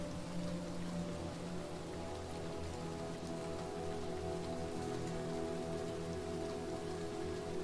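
Steady rain in the video game Little Nightmares 2, a constant hiss of drops on surfaces with a low rumbling undertone, continuous and even throughout without voices.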